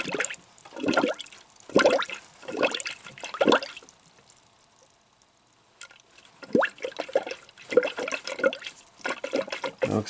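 Coolant gurgling and trickling inside a Nissan Pathfinder cooling system as a hose is squeezed, close-up bursts of bubbling liquid that surge, fade to near quiet, then return in irregular gushes.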